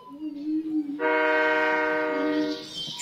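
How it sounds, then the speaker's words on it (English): Train horn blaring as a train passes in a car destruction video game, a long, loud, steady horn note that starts abruptly and holds for a couple of seconds over rumbling. "A train."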